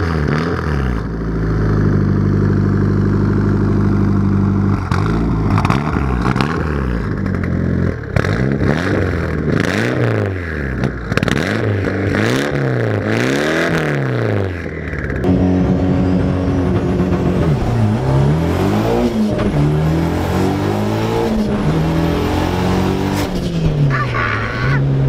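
A car engine cranks and catches after an oil change, then revs repeatedly in rising and falling surges, loud and close, with clattering mechanical noise between the bursts.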